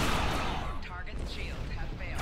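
Starship weapons firing at an Entangler frigate in Star Trek Online, booming blasts and rumbling impacts with swooping energy tones, fairly loud and close, mixed with voices talking.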